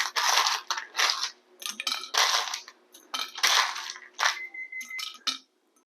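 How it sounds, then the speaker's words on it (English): Ice cubes clatter into a Boba Monster cup in several loud bursts of rattling and clinking, each scoop landing close, with short gaps between pours. "So I'm going to fill it with ice while my boba is cooking."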